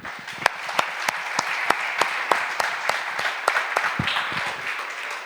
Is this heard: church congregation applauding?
yes